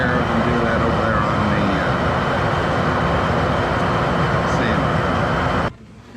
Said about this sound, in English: This is the oscillating spindle sander. I have it set up with a 1/2-inch diameter sanding drum on it.